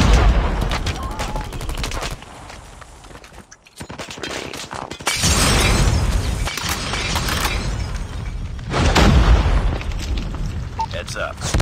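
Call of Duty Mobile ranked Hardpoint match, with dense bursts of gunfire and a heavy booming grenade blast amid continuous loud battle noise, and game voice callouts mixed in.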